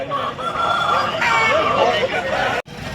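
A rooster crows loudly and close at a busy Sunday hen market in Pileru, with clucking fowl and a background hubbub of people talking throughout.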